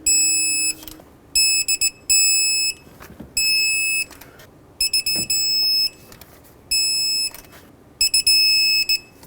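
A digital torque wrench gives a series of high electronic beeps, steady tones in repeated bursts, while water pump bolts on a Chevrolet Express are torqued to 22 foot-pounds, loud and close with quiet gaps between them.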